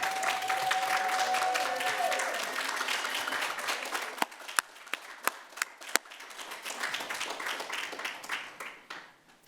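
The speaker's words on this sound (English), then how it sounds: "can we all stand up and applaud these people?" A graduation commencement audience stands and applauds graduates, broad sustained clapping from a large crowd that thins into scattered sharp individual claps, with a voice briefly audible beneath it.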